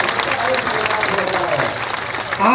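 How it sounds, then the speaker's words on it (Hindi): A large crowd claps loudly at a Chhattisgarh assistant teachers' protest rally, with a thick, continuous roar of applause and voices mixed in. "आप लोग जोरदार ताली बजाएंगे"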